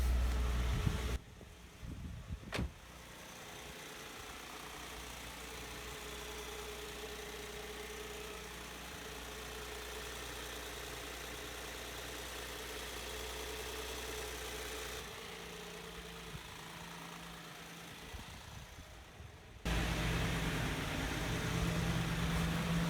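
A 2002 Nissan Maxima engine idles steadily after a cam sensor replacement, a low continuous rumble heard up close with a few sharp clunks near the start and a louder stretch toward the end.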